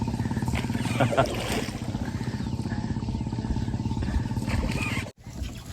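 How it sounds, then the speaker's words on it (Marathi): A motorboat on the Chandrabhaga river runs with a steady low engine drone, heard close throughout while someone talks over it, with a brief dropout near the end. "होडी"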